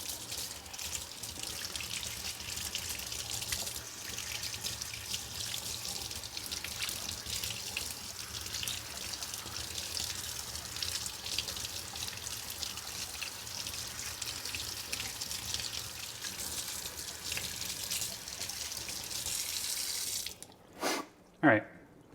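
Room-temperature tap water runs into a sink in a steady, soft stream while soil is rinsed off plant roots. Faint talk sits under the flow, and a few splashy knocks follow near the end.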